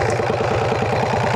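A twin cam bagger motorcycle engine runs close by in a steady, lumpy, rhythmic idle with a deep pulsing throb and no talk.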